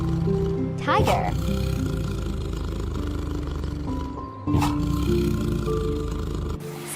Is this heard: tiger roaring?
yes